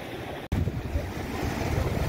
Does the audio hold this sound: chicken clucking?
no